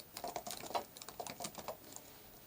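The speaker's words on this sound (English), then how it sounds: "I'm going to go to the search bar and I'm going to type animal in habitat" Typing on a computer keyboard into a browser search bar: a quick run of light, irregular key clicks, close and fairly quiet, with no speech.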